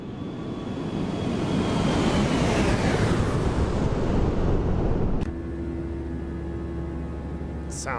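A Boeing 737 NG jet roars past in the X-Plane 12 flight simulator, a loud broad rushing whoosh that swells and sweeps downward before cutting abruptly to a quieter steady engine hum with a faint tone.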